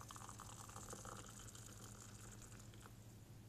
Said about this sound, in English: Water.